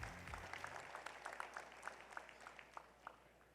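Faint audience applause at a gala celebrating India's independence, a soft patter of scattered claps heard at a distance over a low hum.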